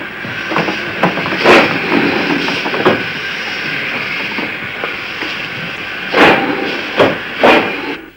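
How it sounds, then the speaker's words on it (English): An old steam engine on a preserved railway line hisses steadily and loudly, with occasional sharp bursts of exhaust and clanks standing out over the continuous steam. "odd vehicles appeared, old steam engines."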